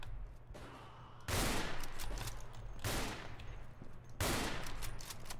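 Rifle fire in a World War I video game: three heavy, booming shots about a second and a half apart, each with a long rolling tail, over a low steady background hum.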